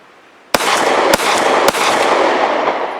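Three sharp gunshots from a Walther PPQ SC pistol firing Browning 147 grain stub-nose ammunition, loud and close, evenly spaced with ringing echo between.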